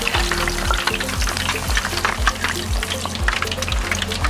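Frozen steak deep frying in hot oil, a loud close bubbling sizzle that crackles steadily throughout with no voices.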